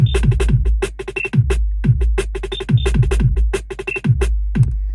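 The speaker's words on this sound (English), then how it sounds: "Sequenced the drums so they sound something like this." Sequenced MIDI drum pattern with a kick, snare and a quieter ghost snare, a punchy repeating groove with steady hits and occasional short high electronic tones, loud and alone.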